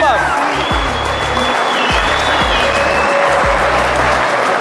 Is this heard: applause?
yes